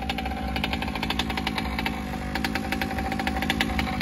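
An HPI Baja 5T RC car's small engine buzzes and revs at a rapid, raspy pulse, loud and close, with no talking.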